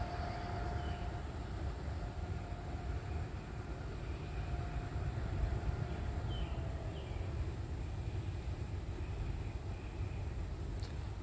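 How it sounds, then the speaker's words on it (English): A freight train rumbles far off along the Ohio River, a low, steady, faint roar that holds for more than ten seconds with no talking. "You got a train way back in the distance."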